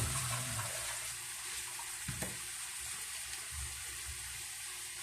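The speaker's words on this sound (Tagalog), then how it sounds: "Lagyan natin ng tubig." Water poured into a cooking pot while making paksiw na bangus, a steady faint splashing stream that runs throughout with a few small knocks.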